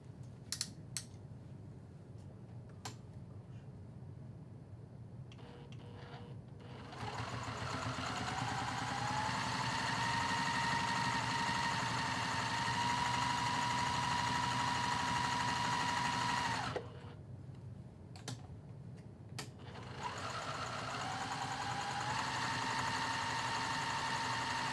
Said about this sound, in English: I'm going to sew the entire outer edge 1/8 of an inch away from the edge of the fabric